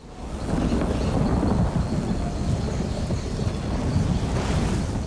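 Thunderstorm conjured over a town in an Elder Scrolls video game, a long, loud rumble of thunder with steady rain and wind noise that swells and holds without a break.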